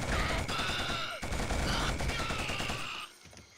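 Sustained automatic gunfire from a Killzone firefight, dense overlapping bursts of suppressive fire hosing continuously for about three seconds before dropping off abruptly.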